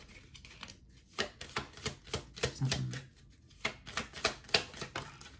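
A tarot deck is shuffled by hand in a quick series of crisp riffles and soft slaps, close and fairly quiet, with a single brief word spoken.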